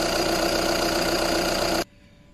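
A Volkswagen Golf 6 engine idles loudly and steadily up close with a dense, even hum, then cuts off abruptly near the end, leaving a faint background.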